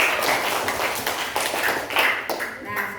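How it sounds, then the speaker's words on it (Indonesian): Applause for a student group in a classroom lesson, a dense run of many hands clapping at once that holds steady for the whole stretch, fairly close, with some voices mixed in. "kita kasih tepuk tangan untuk kelompok"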